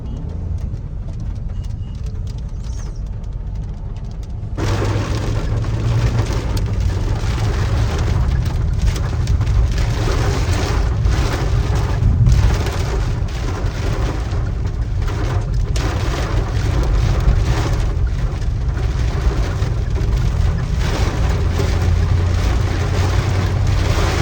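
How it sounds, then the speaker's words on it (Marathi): Steady rain pours down over a low rumbling vehicle engine on the road to Shani Shingnapur, a dense wash of noise that grows heavier after the first few seconds. "पाऊस पण आलेला आहे."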